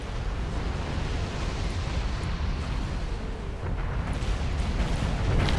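Weapons fire and explosions batter a capital ship, the Columbia, in a Battlestar Galactica space strategy game: a dense, continuous roar of rumbling blasts and overlapping booms, loud and unbroken with no voices.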